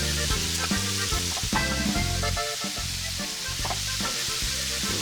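Mixed meats sizzling and frying in a discada grill, a steady close crackling hiss with faint scraping stirs throughout.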